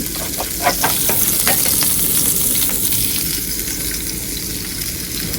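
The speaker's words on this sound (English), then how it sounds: "I'm just going to throw those in the pan." Sliced multicolored peppers, broccoli, mushrooms and carrots sautéing in a hot pan for a shrimp stir fry, a steady close sizzle with scattered crackles and a few stirring scrapes.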